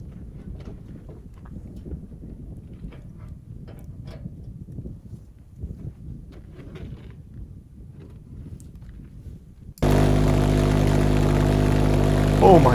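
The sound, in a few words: homemade 400-pound thrust pulse jet engine running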